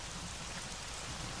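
Steady, dense rain pours down without pause in a film scene, a close, even hiss of drops across the whole moment with no voices.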